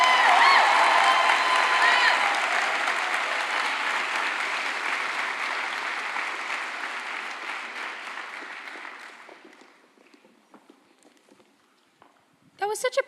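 Graduation audience applauding and cheering for the class of 2025, a dense, loud roar of clapping that fades gradually over about ten seconds into scattered claps and quiet.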